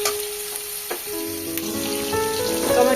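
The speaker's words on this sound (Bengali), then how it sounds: "টমেটোটা দিয়ে হালকা একটু ভাজা ভাজা করবো" Chopped tomatoes sizzle and fry in a hot kadai for a cauliflower curry, a steady crackling hiss that swells louder near the end, with faint stirring scrapes and no talk.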